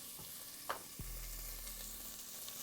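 Butter chicken ingredients fry in a pan on medium heat with a steady close sizzle, a spoon scraping and stirring against the pan a couple of times near the start.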